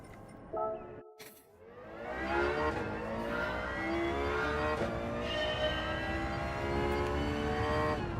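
In Gran Turismo 7, a race car's engine rises in pitch as it accelerates out of a corner after a brief dropout, then holds a loud, steady, climbing whine for several seconds.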